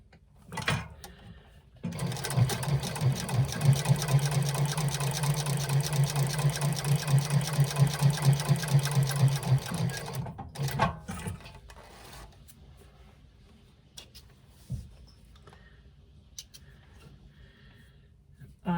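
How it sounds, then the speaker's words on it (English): Sewing machine running steadily for about eight seconds while top stitching the edges of a laptop bag, a loud, even mechanical whir that stops abruptly, followed by quieter handling clicks and thumps. "Now we are going to top stitch both of those edges."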